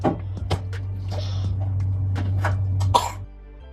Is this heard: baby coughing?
yes